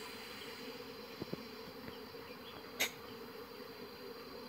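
Honeybees humming steadily at a hive where drones are being raised, a quiet continuous buzz with a few faint clicks and one brief sharper tap, no voices.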